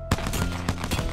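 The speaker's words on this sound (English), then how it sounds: "if you bind your scroll wheel to the P2020, you get crazy fire rate" Rapid pistol fire from the P2020 in Apex Legends, triggered by a scroll wheel for a very fast rate, heard as a quick run of close, sharp shots at an uneven pace.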